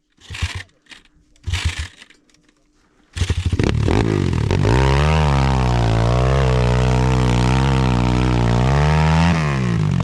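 GNS 300 enduro motorcycle climbing a hill, a few short throttle blips at first, then a loud sustained high-revving engine note with wavering pitch, close by.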